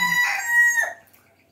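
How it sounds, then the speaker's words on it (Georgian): A rooster crows once, loud and close, a long harmonic call that rises and then trails off into quiet. "უკვე ნერვებზე მოქმედებს ამის ყივილი"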